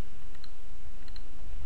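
Computer mouse clicks come as one sharp click early and then a quick pair of clicks, small and close, over a steady background hum.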